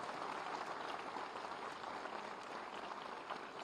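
Audience applause welcoming guests seated on stage at a Samsung Innovation Campus event at Lucknow University: steady, fairly faint clapping from a crowd, sustained evenly throughout.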